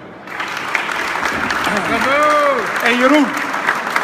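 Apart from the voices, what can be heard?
applause for two men at a makerspace opening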